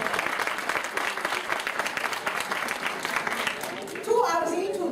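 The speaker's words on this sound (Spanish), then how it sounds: "bueno, dense un buen aplauso, por favor." Moderate applause from a seminar audience at a motivational event, scattered hands clapping in an uneven patter for several seconds before a brief louder swell of voices near the end.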